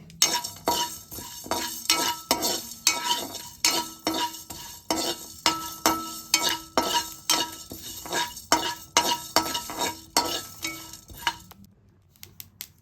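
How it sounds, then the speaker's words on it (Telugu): Whole spices and cumin seeds dry-roasting in a pan for naatu kodi curry, with a spoon scraping and clinking against the metal in a steady repeated rhythm that is loud and close and stops near the end. "ఇప్పుడు మనం మసాలా ఒక స్పూన్ జీలకర్ర కూడా వేసుకుని వేపుకోవాలి"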